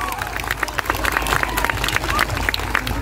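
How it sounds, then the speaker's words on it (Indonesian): Loud applause for all participants at the Ebeg festival announcement in Purbalingga, with steady dense clapping over crowd chatter and low background hum, close and continuous. "Tepuk tangan untuk semua peserta."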